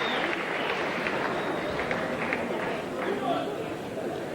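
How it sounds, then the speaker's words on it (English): A boxing-match crowd at Shannons Gym applauds in a dense, steady wash of clapping and chatter, with a commentator talking over it. "Well, a big applause from the crowd."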